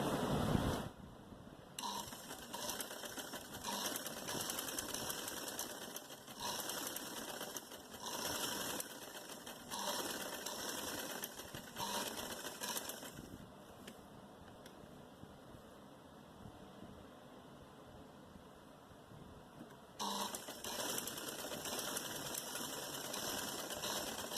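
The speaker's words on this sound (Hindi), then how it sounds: "बुकरम के साथ साथ सिलाई लगाएंगे।" Steady, continuous whirring of a sewing machine as it stitches a blouse sleeve along buckram, running close and constant with a brief pause partway through before resuming.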